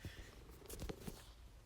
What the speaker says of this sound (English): She's purring now.